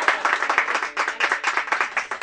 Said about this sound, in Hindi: भाई वाह ताली बजाओ,